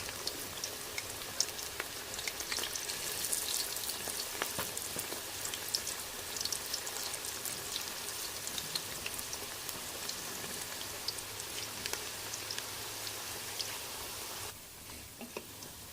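Cabbage pakoras frying in hot oil, a dense, continuous crackling hiss like steady rain that holds level throughout and drops away near the end.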